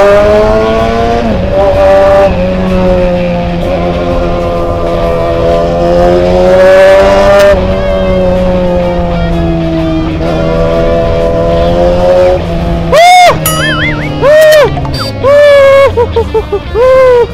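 A Yamaha YZF-R6 sport motorcycle ridden fast on a drizzly road, engine whining high and rising through the gears with sharp revving bursts and shifts near the end, loud and close throughout.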